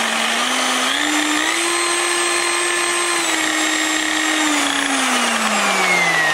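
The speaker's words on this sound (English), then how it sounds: "With this Black & Decker, you could actually lock it in at a low speed." A Black & Decker car buffer whirs steadily at low speed, a close, continuous motor whine that rises slightly in pitch and then eases down again.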